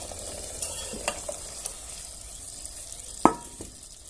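Soft sizzling in a pan with a few scraping taps of a spoon stirring a spinach curry with spices, one louder clunk near the end.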